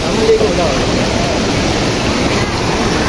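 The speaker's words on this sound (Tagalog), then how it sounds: "St. Anthony's Falls." Saint Anthony Falls in Indang, Cavite gives off a steady, loud wash of falling water, close and unbroken, with broad noisy rushing across the whole clip and a little wind buffeting the microphone.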